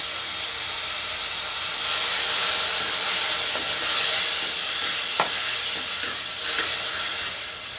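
Tomatoes and curd fry in a pan for plain kuska biryani with a loud, steady sizzle and hiss, broken by a few soft scrapes of stirring.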